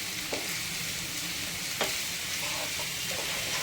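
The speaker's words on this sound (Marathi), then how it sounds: "कांदा छान असा थोडासा परतला की आपण त्याच्यामध्ये हिरवी मिरची घालून घेणार आहोत" Onions frying in a pan for street-style masala Maggi, a steady, dense sizzle with a couple of faint stirring taps, close and continuous, no talk.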